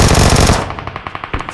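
Automatic gunfire in the mobile battle game BGMI, a dense loud burst of rapid shots for the first half second, followed by a string of separate sharper shots spaced out with short gaps.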